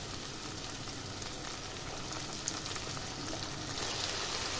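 Potatoes frying in oil in a pan for a simple potato kurma, a steady close sizzle and crackle running continuously with no one talking.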